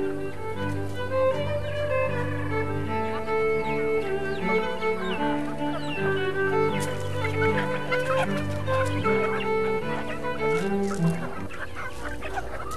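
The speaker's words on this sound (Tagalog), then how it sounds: "Ang mga alaga po naming mga native chicken ay ito po yung mga darag." Native Darag chickens on an integrated farm cluck and call over one another in a busy, continuous chorus, close and steady with overlapping tones throughout.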